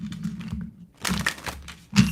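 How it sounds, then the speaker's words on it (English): Quick riffling bursts of cards being shuffled, a few crisp flurries separated by short pauses, close by. "let's shuffle up some more."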